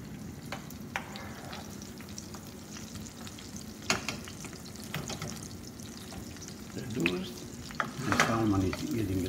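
Shrimp sizzling and frying in a cooking pot for a salmon and shrimp minestrone, a steady quiet crackle with intermittent scraping and stirring clatter that grows busier toward the end.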